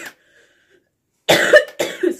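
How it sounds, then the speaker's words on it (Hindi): A person coughs sharply twice, close and loud, after a short near-silent pause, the harsh bursts standing alone without talk. "सॉरी, आजकल खांसी बहुत ज्यादा हो रही है।"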